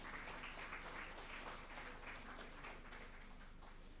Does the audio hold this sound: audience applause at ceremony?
yes